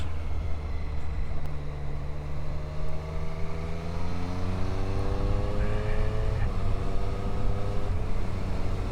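A Triumph Street Triple 765 RS motorcycle under hard acceleration, engine pitch climbing steadily through several quick-shifter upshifts with brief dips between gears, loud and close over constant wind rush.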